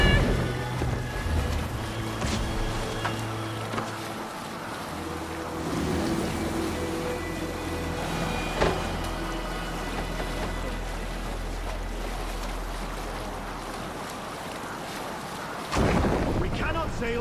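A Viking longship under sail in Assassin's Creed Valhalla, with rushing wind, water washing against the hull and creaking, and a voice briefly calling out.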